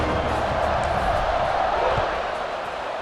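Stadium crowd noise roars steadily at kickoff in the college football video game EA Sports College Football 26, a dense, continuous wash of cheering that holds fairly loud throughout without clear breaks.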